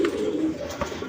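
Racer pigeons coo in a low, soft, continuous murmur, close by and steady throughout the short stretch, with no talk.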